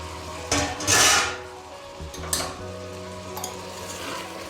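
Two sliced tomatoes are dropped into chicken frying in a pan, giving a loud burst of sizzle followed by a few stirring scrapes and clinks over a continuous frying hiss, with no talking.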